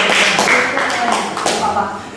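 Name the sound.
applause for group 3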